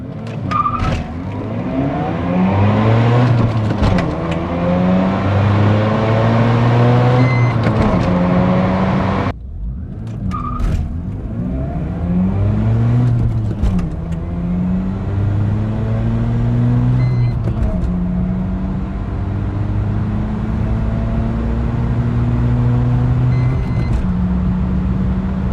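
A 30-year-old Mazda RX-7 R1 makes a quarter mile run, its engine loud and close, climbing in pitch through the gears with several shift breaks and a rising, sweeping roar throughout.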